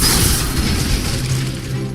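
Incendio fire spell cast in Hogwarts Legacy, a dense booming whoosh of flame filling the moment, loud and broad with no voice over it.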